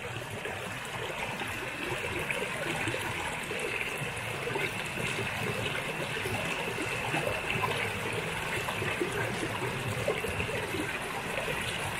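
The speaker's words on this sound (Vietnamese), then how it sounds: "Tiếng suối chảy không nó yên bình." A small, nearly dry stream trickling and burbling steadily over stones, a constant soft rushing wash that holds at low level throughout with no voices.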